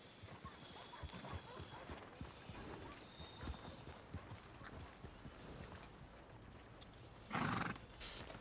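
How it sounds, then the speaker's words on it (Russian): A horse whinnies and snorts in Red Dead Redemption 2 amid creaking tack and soft hoof clops, a game soundscape with a louder burst near the end and no talk. "это вот моя временная лошадь"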